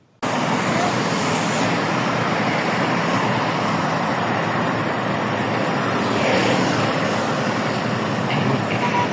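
Steady road traffic on Canal Road, a badly broken and damaged route carrying rickshaws and small cars, rushes past continuously at close range, loud and unbroken throughout with no talk.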